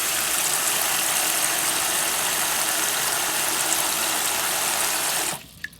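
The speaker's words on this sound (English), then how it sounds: "Now that I have the ice cubes in there, I'm just going to add some water." Water pours steadily into a bowl already holding ice cubes, a continuous close rushing splash for about five seconds that stops abruptly, leaving a faint clink afterward.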